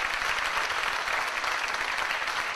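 An audience at a church service claps together in steady, dense applause that holds at an even, fairly loud level from start to finish.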